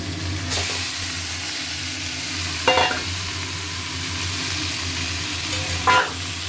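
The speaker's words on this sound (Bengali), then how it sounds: "এবারে দিচ্ছি কচু শাক।" Taro greens (kochu shak), boiled beforehand, go into a pan of spices fried in oil until the oil separates; a steady sizzle runs throughout, with a few brief louder bursts of spattering and stirring.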